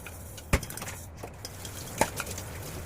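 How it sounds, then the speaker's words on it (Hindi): Dishes, pots and pans being washed in a home kitchen, with a couple of sharp clanks of metal utensils against cookware over faint running background noise. "तो हम कर लेते हैं फटाफट क्लीन अपने बर्तनों को।"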